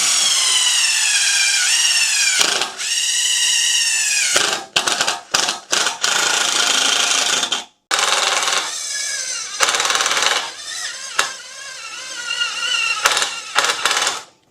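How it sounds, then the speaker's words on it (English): A power drill drives a self-tapping screw into the suspension of a Datsun race truck, whirring loudly in repeated bursts with rising and falling pitch and short pauses between them. "Just gonna put a self-tapper in it."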